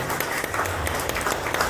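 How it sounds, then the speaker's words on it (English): Dense applause from the audience at the Mister Pilipinas Worldwide 2025 send-off press conference, a brief continuous burst of many hands clapping with no voices over it. "Give them a huge round of applause"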